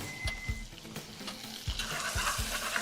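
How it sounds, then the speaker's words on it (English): Sugar is stirred in a pan with golden syrup during a cooking competition, giving soft, rhythmic scraping strokes against a quiet sizzle, fairly faint and close. "Now stir that sugar."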